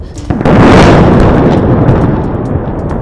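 A loud, close explosion from an Israeli strike on Beirut, with a sharp onset and a heavy rumbling roar that slowly fades over a few seconds.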